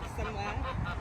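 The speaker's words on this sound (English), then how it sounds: "There were some geese honking away" Geese honking on a farm, a brief burst of nasal honks mixed with nearby voices talking over it.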